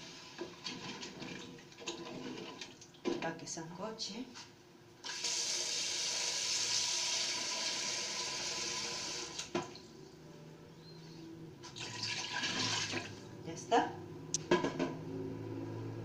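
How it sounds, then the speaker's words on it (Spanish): Water poured from a tap into a cooking pot while making olluco with chicken: a steady, close rushing stream lasting several seconds, then a second shorter pour, with someone talking in between. "Vamos a agregar más o menos el agua."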